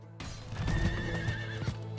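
Horses neighing in Diablo 4: a short, clear whinny over soft clip-clopping hooves, close and moderately loud, lasting about two seconds.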